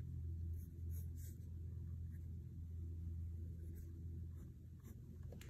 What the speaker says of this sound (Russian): коричневым карандашом чуть-чуть добавить цвет темный по краю